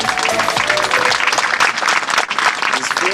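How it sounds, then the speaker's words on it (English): A large awards-ceremony audience applauds a winning company, FINCA Uganda Limited, with dense, loud, continuous clapping that fills the whole stretch without a break. "Put your hands together, ladies and gentlemen. Applaud FINCA."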